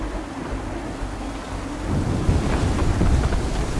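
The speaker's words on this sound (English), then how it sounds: "There's a storm coming, Captain. Feels like a big one." A thunderstorm at sea in Assassin's Creed III builds with heavy rain and a deep rolling thunder swell that grows louder midway, wind-driven and continuous, with no voices.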